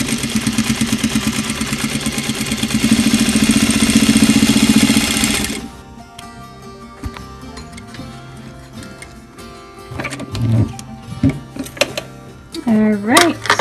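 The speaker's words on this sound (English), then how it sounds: "you're going to sew them together right here," A sewing machine runs steadily, stitching fabric strips together for a small cuddle-cup pet bed, loud and close with a rapid mechanical rattle for several seconds before stopping, followed by quieter handling noises.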